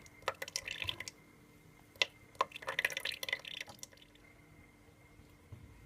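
Carrot, pineapple and strawberry juice dripping through a strainer, heard as faint, irregular drips and small liquid patters in a quiet room, clustered in short bursts before fading out.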